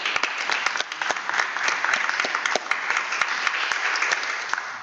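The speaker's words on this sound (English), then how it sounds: "So a round of applause for our new additions." Steady applause from attendees at a board of education meeting welcoming new staff, a close, even patter of many hands clapping without pause for several seconds.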